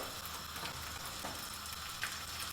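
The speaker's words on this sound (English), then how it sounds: "Turn it over, skin side down first. I'm going to seal that off to get a light golden colour" Meat laid skin side down in a hot pan gives a steady, even sizzle of frying fat throughout, moderately close and fairly quiet, with one brief brighter crackle near the end and no talking.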